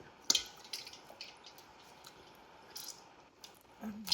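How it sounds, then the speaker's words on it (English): Homemade butter squeezed by hand to press out leftover buttermilk, giving soft wet squishes and small drips in scattered bursts, close and fairly quiet, with no talking. "all she's doing is she's trying to squeeze out any residual buttermilk that's in the"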